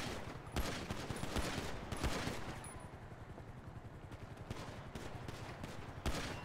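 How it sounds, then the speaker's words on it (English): Gunfire in a GTA 5 police roleplay video game: several loud, sharp bursts of shots over a constant noisy bed, with rapid repeated reports at a moderate distance. "Oh, shots fired. We've got shots fired."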